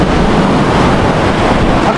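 Rough sea waves crash continuously at a Filipino shore fishing spot, a loud, dense roar of surf mixed with heavy wind buffeting the microphone.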